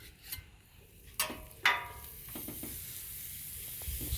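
Butter and oil hit a hot Blackstone griddle, giving sharp bursts of hissing sizzle among spatula taps, then a softer steady fry, fairly quiet and close with no talking.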